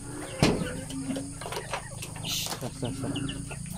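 Chickens cluck and murmur nearby amid farmyard background noise, with one sharp knock near the start and soft voices in the mix.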